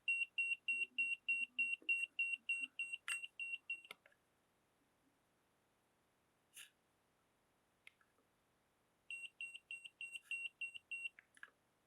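A ZK-U15 battery tester's over-current protection alarm sounds as a rapid train of sharp, loud electronic beeps, stopping briefly before resuming in a second burst; a few isolated clicks occur in the quiet gap between.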